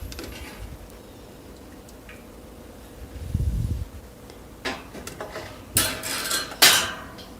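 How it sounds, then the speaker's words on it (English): Glass canning jars of homemade tomato sauce cooling after a hot water bath, their lids giving a few sharp, bright pings and clinks over a quiet room hum, scattered irregularly in the second half. "You can hear pinks already."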